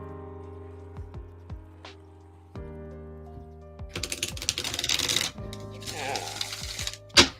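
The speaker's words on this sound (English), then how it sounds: "I'm gonna shuffle this, get a nice shuffle going real quick." Quick riffling and shuffling of tarot cards, a burst of papery flutters building after a few soft taps, over a low steady background hum.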